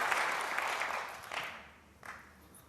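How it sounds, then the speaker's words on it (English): Applause from a snooker crowd at the Players Championship semi-final between Judd Trump and John Higgins, a warm burst that fades, then two brief swells of clapping. "John Higgins leading the applause for that one."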